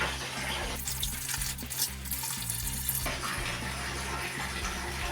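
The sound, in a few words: stomping laundry down in washing water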